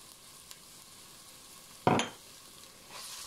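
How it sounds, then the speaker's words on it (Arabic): Onion and tomato paste fry and get stirred in a pan: a quiet sizzle, one sharp scrape of the spoon through the mixture, then a stronger hiss of frying. "وكنبقى نخلط في هذا العصير تاع الطماطم مع عفوا مركز الطماطم مع البصله حتى كتشحر حتى هي مزيان"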